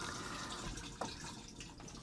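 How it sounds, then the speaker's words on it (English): Water rushes steadily into a motorhome toilet bowl on a Rimor EVO77 Plus as the pump-driven flush rinses it. The flow is close and continuous, with no voices. "after the water has run away, rinsing the bowl, you simply close the valve"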